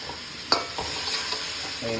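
Spices, cumin among them, sizzle in a pan for a fish curry gravy while a utensil stirs them, with a sharp scrape near the start and a continuous close frying hiss.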